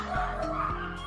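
Several excited dogs bark in quick bursts, two sharp yips standing out over a steady background hum, close and moderately loud.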